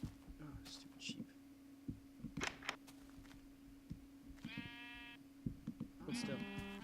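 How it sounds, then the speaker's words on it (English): Sheep in a block-building video game give a few short, wavering bleats over steady game background sound and low murmuring. "Oh, stupid sheep."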